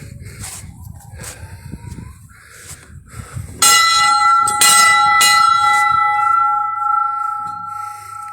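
A loud metal dinner bell on a homestead starts clanging after a few quiet seconds, ringing in bright repeated strikes with a long sustained resonance that slowly fades.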